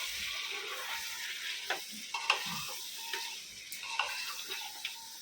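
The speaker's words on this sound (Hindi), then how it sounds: "मसाले को अच्छे से भुनने का, इतना अच्छा भुनने का कि घर में खुशबू आ जाए अच्छे से" Masala for dal gosht is fried and stirred in a pan, a soft continuous sizzle broken by light scraping and ticking strokes of the spoon, close and fairly quiet.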